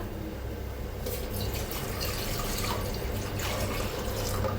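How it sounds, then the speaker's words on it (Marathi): Water poured from a container into a cooking pot set on a gas stove, a steady splashing stream heard close and alone for several seconds. "आता हे सगळं पाणी वतून घेऊया ह्याच्यात"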